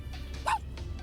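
A person mimics a tiny dog with a brief, high yip, one sharp bark-like note among soft breathy sounds over low background rumble.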